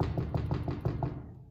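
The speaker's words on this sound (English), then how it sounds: "One evening, I heard pounding on my door." Rapid series of about six heavy knocks, evenly spaced, pounding on a door nearby, then fading into a short reverberant tail.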